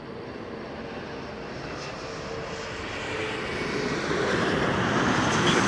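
Fixed-wing airliner at Toronto Pearson Airport, a steady broadband engine roar that slowly swells louder as the plane nears, heard alone with no talk.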